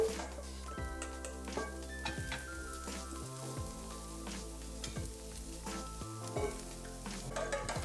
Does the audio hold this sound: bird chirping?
no